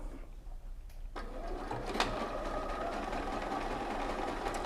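A sewing machine darning a hole in a striped knit sock runs steadily with a constant motor hum and rapid needle rhythm, close and moderately loud, starting faintly and then running continuously without talk.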